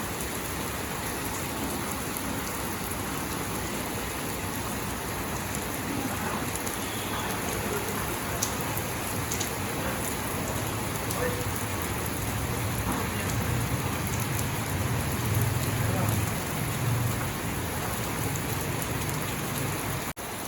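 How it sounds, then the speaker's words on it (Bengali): Steady rain falls continuously, a dense even patter on surfaces that holds at a constant moderate level for the whole stretch, with no voices. "দেখেন কত সুন্দর বৃষ্টি নামছে"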